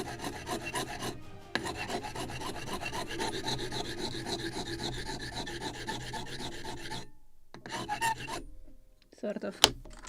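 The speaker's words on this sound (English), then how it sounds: "Maybe sanding block will work faster." A sanding block rasps back and forth on a small wooden model anchor for a 1776 gunboat kit, making a close, continuous scratchy rubbing in quick strokes that breaks off, then returns in short bursts.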